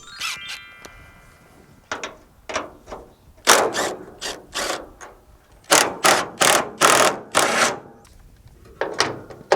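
A 9/16 wrench loosens the hood bolts on a GTO restomod, giving rapid ratcheting clicks in quick bursts, close and fairly loud, with brief pauses between runs.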